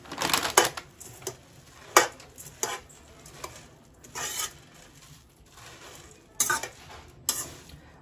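Puffed rice bhel puri with onion and tomato is tossed and mixed in a bowl, making bursts of dry rustling and crunching scrapes separated by brief pauses.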